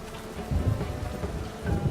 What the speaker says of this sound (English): It just rains.